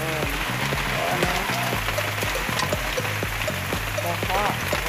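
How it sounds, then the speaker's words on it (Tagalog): Heavy rain pours steadily onto a surface around people stuck on an e-bike, a dense constant hiss with a low rumbling layer, while people talk over it. "Ang lakas ng ulan."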